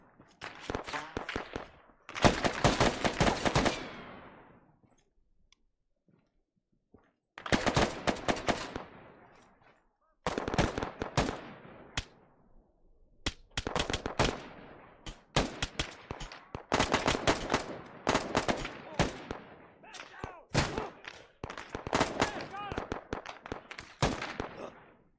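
ARMA 3 machine gun fire comes in long, loud, rapid bursts of automatic shots, separated by brief silences and sharp echoing tails, with no talking over it.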